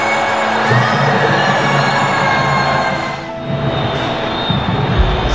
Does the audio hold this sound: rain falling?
no